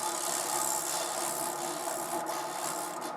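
Rotary tool barrel sander grinding at a wooden spoon, a continuous high whine with a gritty abrasive rasp, close and steady for a few seconds.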